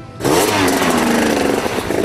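A motorcycle engine in the village of Prades fires up close by and holds a loud, rough rev with a throbbing pulse for about two seconds.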